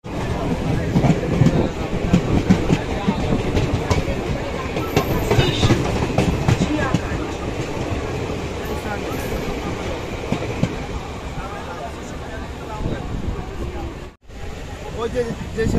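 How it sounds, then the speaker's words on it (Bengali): A train runs on rails with a loud, continuous rumble and rattle of carriages and faint clickety-clack, heard from on board. Voices talk over the noise throughout. "train will go up to Shirakta."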